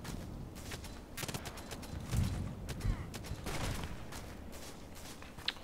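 Gunfire from a distant shooter on the Old Sawmill map of a multiplayer shooter game, sounding as a scatter of sharp cracks and bursts that come and go over a steady background, with no talk.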